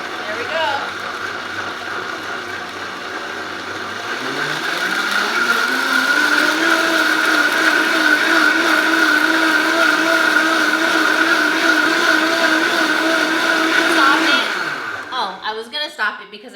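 A Vitamix blender whirring through green juice with spinach and chia seeds, the motor ramping up from low speed to a loud, steady high-pitched roar, then cutting out with a few rattles as it slows.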